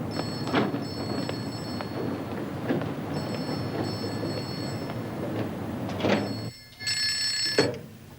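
A telephone rings down the line during a call, sounding as repeated bursts of a bright electronic ring with short pauses between them over a steady low background hum.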